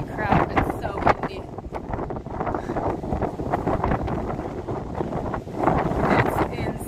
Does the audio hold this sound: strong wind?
yes